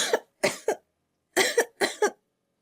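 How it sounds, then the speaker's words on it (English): Several sharp, close coughs in two bursts, two or three harsh barks each, separated by a short silence. "I coughed again"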